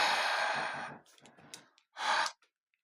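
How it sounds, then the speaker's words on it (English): Several soft exhaled breaths blown close onto Hot Wheels diecast cars, a long breathy push followed by fainter puffs and one last short burst, quiet and alone. "So you breathe on them a bit."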